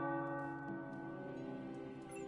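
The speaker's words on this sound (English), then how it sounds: "The tower bells are ringing." Tower bells in the video game Marvel's Midnight Suns ring steadily with a sustained, layered tone, several pitches sounding together and lingering throughout at a moderate, slightly distant level.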